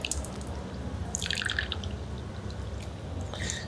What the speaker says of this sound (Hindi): देखिए लेफ़्ट हैंड हम ऐसा धोएंगे